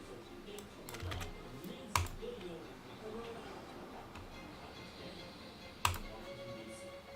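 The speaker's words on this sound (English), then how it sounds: "Trying to show off my, Sanskrit typing skills" Computer keyboard typing while Sanskrit text is entered, heard as faint, scattered key clicks with a couple of sharper taps over a low room background.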